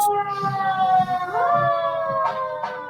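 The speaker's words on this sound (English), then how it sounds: "It's not an ambulance. It's a fire truck with Santa on it going down." Fire truck siren wailing as it passes, a loud tonal sweep that shifts pitch midway, with faint voices underneath.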